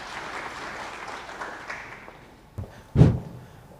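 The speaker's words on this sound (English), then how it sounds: "Let's clap." A lecture audience claps, the sound thinning and fading over a few seconds before a couple of louder knocks or taps close to the microphone.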